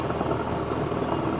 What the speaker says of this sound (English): I just heard him spool up the engines.